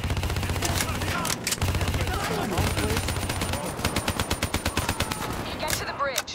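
Rapid automatic gunfire rattles through a Call of Duty Black Ops 3 campaign battle as cover fire, dense bursts giving way to a steady stuttering volley of close, loud shots.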